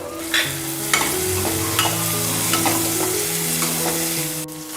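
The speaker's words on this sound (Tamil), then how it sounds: "இந்த அவரைக்காய் சேர்த்துக்கிறேன்." Finely chopped broad beans (avarakkai) sizzle and fry in a hot pan while being stirred, with scraping strokes of a utensil and a steady crackle throughout.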